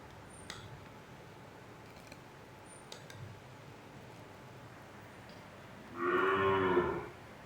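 A single loud, close cow moo lasting just over a second rises near the end, after a long stretch of quiet farmyard background with a few faint clicks.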